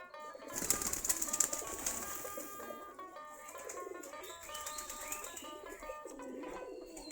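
Native Giribaz pigeons eating paddy coo softly and fairly near, with scattered chirps and a brief flutter of wings early on, all at a low level.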